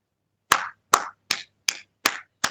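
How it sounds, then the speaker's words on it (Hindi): Six separate hand claps from a yoga session group, evenly spaced about every 0.4 seconds, sharp and fairly close, with silence between them and no talk. "सबके लिए तालियां, बहुत बढ़िया।"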